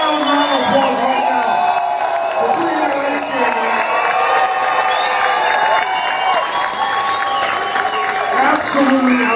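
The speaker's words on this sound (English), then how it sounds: "So I want you to give them all a loud, loud applause right now." An audience at a house band competition cheers, whoops and shouts loudly for the bands, with a continuous roar of crowd noise and scattered high yells throughout.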